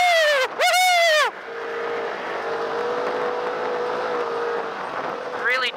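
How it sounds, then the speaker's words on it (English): A Polaris RZR RS1 side-by-side drives over dusty dirt whoops with a steady engine drone. Loud whooping shouts with rising and falling pitch break in at the start and end. "Really small wheelbase, but it still, you know, goes over the whoops pretty good."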